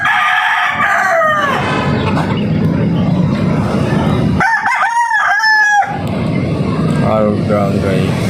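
A Brown Gray gamefowl rooster crows loudly nearby in a couple of long calls, with other chickens clucking and someone talking over the yard noise.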